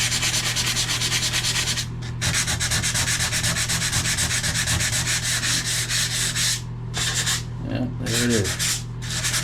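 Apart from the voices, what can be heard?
sanding the gloss off a tub with sandpaper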